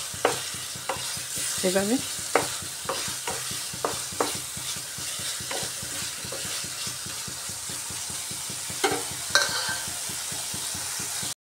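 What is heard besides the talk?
stirring chopped tomatoes in a frying pan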